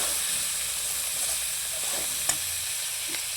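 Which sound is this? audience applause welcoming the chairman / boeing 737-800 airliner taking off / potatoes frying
potatoes frying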